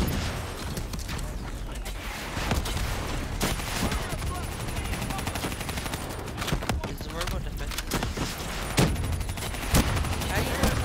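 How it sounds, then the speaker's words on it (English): Sustained automatic gunfire from Call of Duty Black Ops 3, dense rapid bursts with mechanical clatter filling the whole stretch, loud and continuous, with a player talking over it. "I'm shooting his defenses out again"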